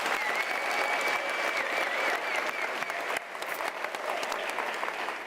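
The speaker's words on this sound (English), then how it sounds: "Can we give him a round of applause?" A large graduation-ceremony audience at the University of South Africa gives sustained, dense applause for the chancellor, filling the whole stretch evenly at full strength with no speech over it.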